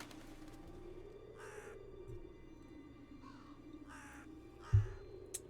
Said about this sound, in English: A nearby bird flapped its wings loudly.